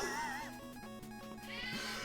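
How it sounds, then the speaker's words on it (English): A pet cat meows in short, tonal, wavering calls close by, over steady background music with a sustained tone. "he's meowing even more"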